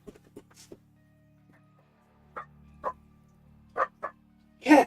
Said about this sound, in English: Quit barking, you silly puppy!